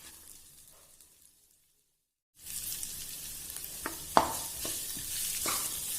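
Onions hit hot spiced oil in a pan and sizzle loudly after a brief silence, with a steady frying hiss and a few sharp scrapes from stirring, no one talking.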